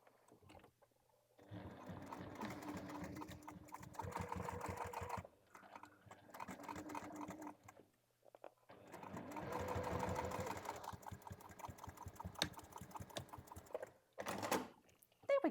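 A sewing machine stitches a second seam on a vinyl bag in several rapid bursts separated by short pauses, with faint handling sounds between runs and no talk.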